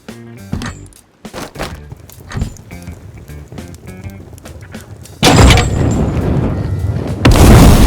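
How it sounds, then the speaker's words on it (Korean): Explosive rocket ammo in the Rust video game goes off: scattered thuds and clicks give way to a loud, broad blast with a rumbling roar, followed by a second heavy burst at the end. "폭발탄은 건물을 파괴할 때 사용하는데,"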